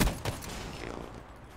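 A gunshot lands a headshot in the multiplayer shooter Black Ops 3, one sharp, close blast followed by a second smaller report and a fading tail, with no voices over it.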